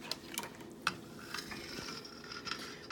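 A spoon stirs filé powder into a pot of gumbo, making quiet scrapes and light metallic clinks against the pot over a soft background hiss.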